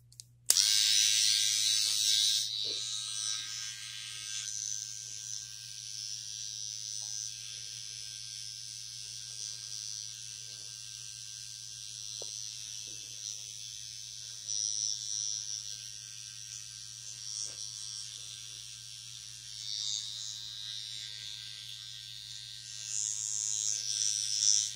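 Wahl all-in-one electric trimmer running steadily inside a nostril, a close, thin buzz that shifts slightly in pitch as it moves against the hair, with faint handling noises throughout.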